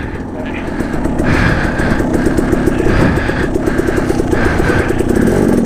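A motorcycle engine runs close by with a steady, throbbing rumble and rhythmic pulsing, loud and continuous throughout.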